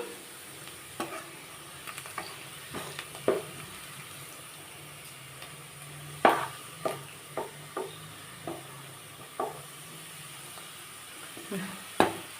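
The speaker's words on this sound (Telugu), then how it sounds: "వేగుతున్నాయి చూసారు కదా ఉల్లిపాయలు" Onions, green chillies, coriander, curry leaves and turmeric sizzle in hot seasoning oil. A spoon stirs them, giving a steady close frying hiss broken by sharp clinks against the pan.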